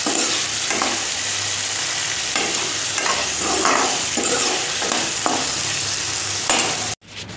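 A curry is stir-fried in a pan, giving a continuous close sizzle broken by repeated scraping stirs from a utensil, loud and steady throughout before stopping abruptly near the end, with no voices.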